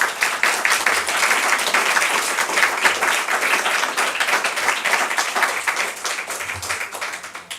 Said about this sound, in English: Now we can thank the candidates with your applause.